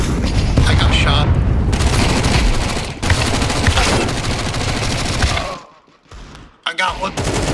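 Rapid bursts of gunfire and booming explosions in Counter-Strike 2 competitive play on the Office map, loud and dense, dropping to a brief lull before more shots, with a player talking over it.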